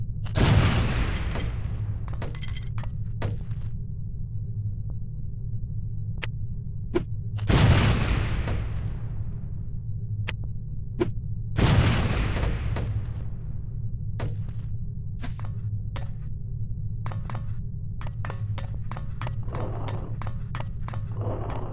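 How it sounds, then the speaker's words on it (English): Lipstick explosive devices detonating in the game The Operative: No One Lives Forever on PS2, a few heavy booms at intervals over a steady low hum, mixed with sharp clicking game effects. "These relatively inconspicuous-looking lipsticks are actually powerful explosive devices that detonate on impact."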